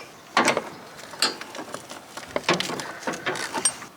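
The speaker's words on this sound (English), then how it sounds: "I've removed both of those bolts that hold the right hand cover in place" A spanner works the cover bolts on a John Deere X110 automatic ride-on mower deck, giving quiet, close ratcheting clicks and light metallic taps in irregular bursts.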